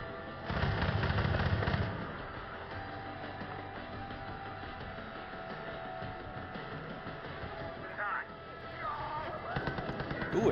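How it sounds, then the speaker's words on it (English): A burst of loud crackling blasts opens in Far Cry 5, followed by a continuous rumble of game combat noise with scattered pops and a few more bursts near the end. "explosions"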